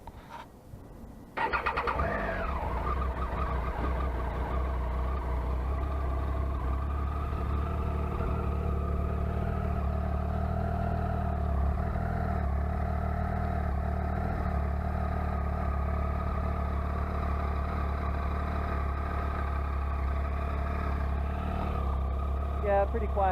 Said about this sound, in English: Yeah, pretty quiet, as you can see, just stock sound